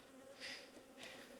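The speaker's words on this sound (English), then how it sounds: "I'm going to get a load of bees flying at me" Bees buzz around an opened hive box during an inspection, a close, faint droning hum that swells briefly twice as insects fly past.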